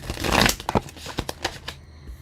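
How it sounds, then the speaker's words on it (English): A tarot card is drawn from a deck: soft, close shuffling and crinkling of card stock, a brief flurry of papery rustles followed by several light, separate flicks and taps. "Okay, Angie, pulling a card for you, my dear."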